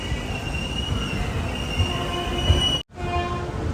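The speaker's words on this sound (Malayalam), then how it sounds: "ഓൺ ടൈമിന് തന്നെ വണ്ടി എടുത്തു" An express train pulls out of Ahmedabad railway station with a steady, loud rumble of wheels and carriages and a high tonal squeal running throughout, then a brief dropout before the rolling noise resumes.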